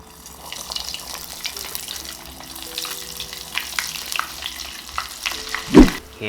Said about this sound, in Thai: อันนี้ผมใช้วิธีการทอดนะครับ